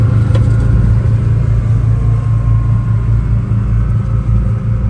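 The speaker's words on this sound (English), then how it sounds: "I'm in my car on a boat." A car sits aboard a moving ferry boat, a steady deep rumbling drone of engine and hull noise filling the cabin, loud and even throughout with no talking.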